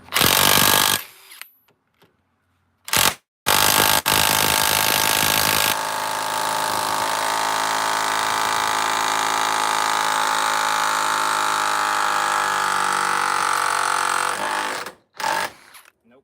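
A DeWalt DCF891 impact wrench runs at full tilt on a bolt held in a vise, opening with a few short loud bursts, then a sustained hammering whine for about nine seconds, close and loud, before stopping.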